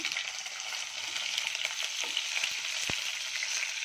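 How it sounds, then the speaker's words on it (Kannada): Cumin, fenugreek and curry leaves splutter in hot oil with a steady, close sizzle and scattered sharp pops and crackles throughout. "ಜೀರಿಗೆ ಮೆಂತ್ಯ ಕರಿಬೇವು ಹಾಕ್ತಾಯಿದ್ದೀನಿ ಇದೆಲ್ಲ ಸ್ವಲ್ಪ ಚಟಪಟ ಅಂತ ಸಿಡಿಲಿ"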